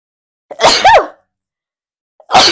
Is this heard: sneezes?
yes